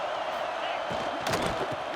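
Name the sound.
football stadium crowd roaring at Notre Dame game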